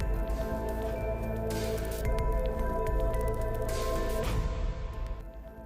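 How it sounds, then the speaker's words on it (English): Vegetable leaves being washed by hand in a bowl of clean water for a Nigerian vegetable stew, with steady squishing, sloshing and dripping close by, without talk, fading near the end. "I'll rewash the leaf with the clean water, and I'll repeat this process until the leaf is well clean."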